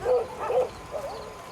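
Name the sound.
trained military guard dog barking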